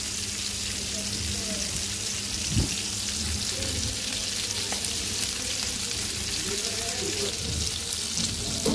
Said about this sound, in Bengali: এরপর মাছটা ভেজে নিব।